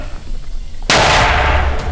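A single sharp, booming artillery gun blast erupts suddenly after a quiet moment near Bakhmut, followed by a rumbling roar that lingers.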